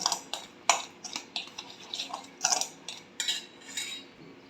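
A spoon clinks and scrapes against a bowl while ragi starch is mixed with almond and pistachio powder, a series of irregular sharp taps and clatters up close with no talk.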